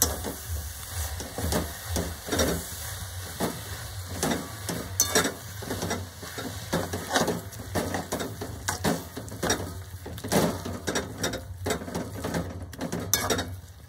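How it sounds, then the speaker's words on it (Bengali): Plum pickle and jaggery are stirred in a pan, giving repeated scraping, clacking strokes in an uneven rhythm under a faint sizzle, fairly quiet and close, with no voices. "আরও কিছুক্ষণ আমি এইভাবে নাড়তে থাকবো এবং গুড়ের যে জল আছে সেটাকে একদম শুকনো করে ফেলবো"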